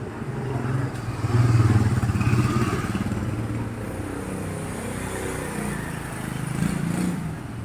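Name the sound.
motorcycle engine running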